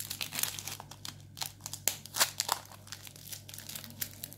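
Adhesive tape is pulled and pressed around a paper coin envelope, giving irregular crinkling and crackling bursts, close and fairly quiet over a steady low hum.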